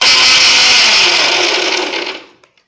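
A mixer grinder grinds hibiscus flowers with coconut milk in a loud, high-pitched whirring burst that holds steady and then winds down to quiet over the last half second, with no voices.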